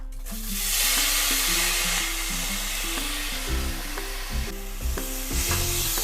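Mixed vegetables frying for vegetable dalia pulao, a steady sizzle with repeated scraping stirs of a spoon in the pan, a low background hum and tonal musical notes running underneath throughout, with no talking.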